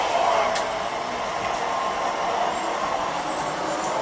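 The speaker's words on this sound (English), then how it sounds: "This will very, very gently vacuum bare floor." A Riccar Prima canister vacuum with a soft-bristled bare-floor tool runs steadily with a continuous loud whooshing motor roar and airflow hiss, unchanging and with no talk.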